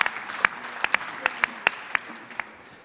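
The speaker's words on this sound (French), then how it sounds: "un petit applaudissement à nouveau pour l'encourager." An audience at a startup pitch event applauds in a thin, scattered way, with about ten separate claps that fade as the clapping dies off.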